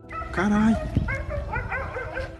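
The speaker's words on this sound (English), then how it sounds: "A boy went for a walk when he started hearing dogs barking, along with wolves howling." Dogs heard at night in the dark outdoors give high, whining yips and barks in a quick series, with tonal, howl-like cries layered on top, fairly loud and close over a noisy background.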